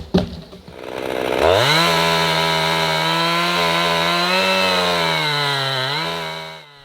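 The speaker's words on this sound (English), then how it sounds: "I haven't used this chainsaw in years, but despite being very powerful" A powerful chainsaw revs up and bites steadily into a thick tree trunk, its loud engine drone holding close and continuous for several seconds before cutting off.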